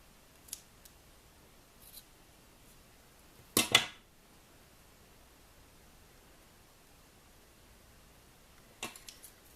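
A few quiet, crisp snips of scissors cutting thread strands on bead charms in an otherwise silent room, with one louder double cut in the middle and another near the end.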